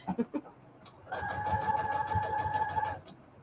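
A sewing machine stitches fabric hexagons for a junk journal cover in one continuous buzzing run of about two seconds, close and steady, preceded by a few soft handling clicks.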